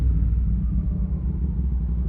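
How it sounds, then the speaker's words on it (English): A V-twin motorcycle engine fitted with a Delkovich 200mm stubby exhaust can idles with a deep, steady low rumble, close and moderately loud, with no talking. "Obviously it's a V-twin engine, so you get a lot of torque and a lot of grunt and a lot of noise."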